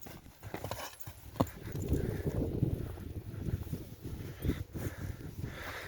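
A draft mare shifts about nearby on a tether in cold weather, hooves clopping and thudding irregularly on the ground with some snorting and rustling, no speech.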